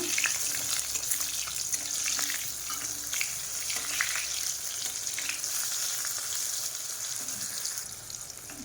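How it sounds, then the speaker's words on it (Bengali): Sliced pointed gourd frying in hot oil in a home kitchen, giving a steady, close hiss and crackle that runs unbroken throughout with small spattering pops. "এই দেখো আমার পটল ভাজাটা হয়ে গেল"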